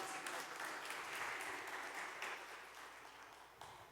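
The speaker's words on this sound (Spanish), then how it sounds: "Un aplauso aquí para José Luis, yo creo que sí lo hizo bien." Audience applause at a church gathering, a steady wash of many hands clapping that holds for several seconds and slowly fades, moderately distant.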